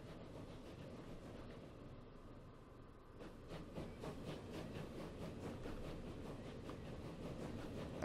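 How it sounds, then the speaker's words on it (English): A passenger train pulls into a station in the rail simulation game Transport Fever, a faint, steady rumble with rhythmic clacking that builds over the second half. "Right, this train is coming in."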